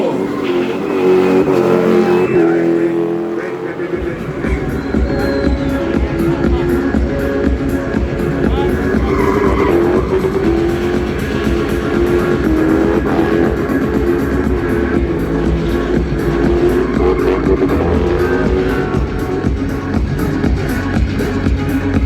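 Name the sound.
car engine revving during a burnout spin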